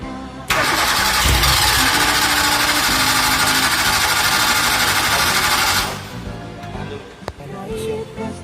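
A Toyota Kijang 5K engine is cranked and started after a valve adjustment: a loud, steady mechanical roar runs for about five seconds, then cuts off sharply, leaving faint clatter and a few knocks.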